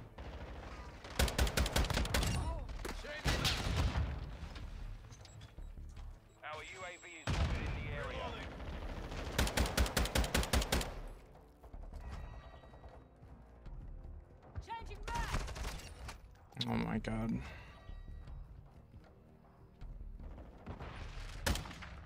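Bursts of automatic gunfire from Call of Duty MW2 multiplayer rattle out in several loud rapid volleys, with quieter single shots between them, while players talk over the action.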